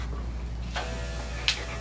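Electric clippers with a tube guard trim a golden retriever's coat, giving a steady low buzzing hum close up with a couple of brief brushing swishes as the blade passes through the fur.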